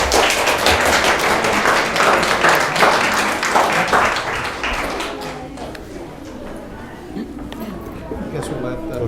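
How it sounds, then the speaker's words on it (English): Audience clapping breaks out at a city council meeting, loud dense applause close by that tapers off midway into quieter room noise and scattered taps. "I think they were clapping."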